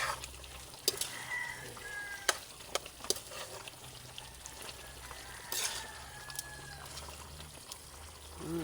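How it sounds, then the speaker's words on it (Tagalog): A spoon stirs kare-kare stew in a pot, giving soft scraping and knocking taps over a low simmering sizzle, with a few sharper clinks and a quiet, close, steady kitchen background. "Yan, saka natin haluin."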